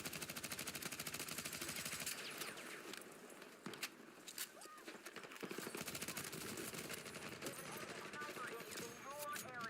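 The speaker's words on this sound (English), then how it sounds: "looks like we're shooting down on them" Gunfire in Battlefield 6 rattles in rapid automatic bursts and scattered single shots, loud and close, with footsteps and a voice talking over the fighting.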